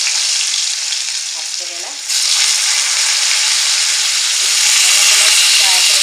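Bitter gourd (kerela) frying in a pan, a steady loud sizzle throughout that swells after the first two seconds, with brief stirring scrapes and a voice speaking over it.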